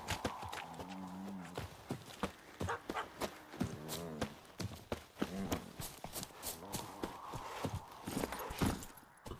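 A horse galloping across the ground in the game The Witcher 3, rapid rhythmic hoof clip-clops near and clear, with occasional snorts and whinny-like calls mixed in.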